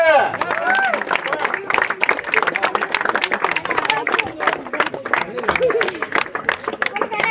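A crowd claps at a stage event during a Sankranti-season cricket tournament in Bangaru Peta, Venkatagiri, with sustained dense applause throughout while voices and chatter carry through the clapping.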